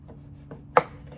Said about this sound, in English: just be careful when you're cutting the foam